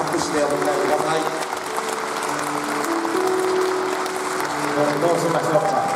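Wedding guests clap to welcome the bride onto the stage, a sustained, moderately loud patter of applause under soft background music, with some voices mixed in.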